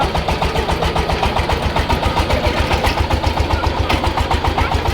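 A twenty-horsepower power tiller engine chugs loudly and steadily nearby on its way to plough a field, a rapid even thumping that never lets up.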